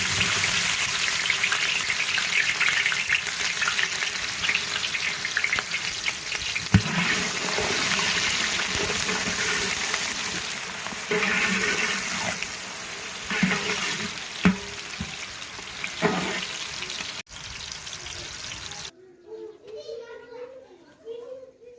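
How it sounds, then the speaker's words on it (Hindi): Onions sizzle and hiss in hot oil, a constant crackling wash under a woman's and children's voices, ending on a brief quieter moment of talk. "ये हमारा गर्म हो गया है। अब इसमें डाल देंगे प्याज।"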